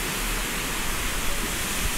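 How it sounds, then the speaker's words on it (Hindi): Waterfall in a Swiss valley, heard as a steady, dense broadband roar that stays constant throughout, loud and close with no voices over it. "Here is the waterfall."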